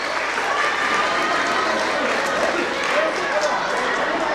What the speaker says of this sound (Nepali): जोरदार तालीले स्वागत गरौँ please put your hands together